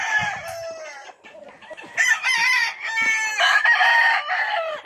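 Pure sweater gamefowl rooster crowing in repeated loud, close calls, with clucking and other fowl sounds between the crows.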